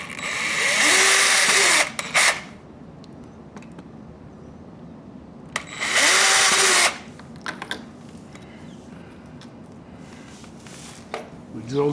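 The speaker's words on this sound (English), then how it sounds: "We drill just 2 holes in the big one so we can slide it up and down" A power drill whines loudly in two bursts of a couple of seconds each, drilling holes while installing a sliding glass door, separated by quieter handling noises and light clatter.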